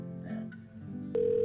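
A mobile phone ringing tone during a call in a Czech Minecraft film: after a stretch of low background murmur, a steady, loud electronic tone begins abruptly and holds unbroken to the end.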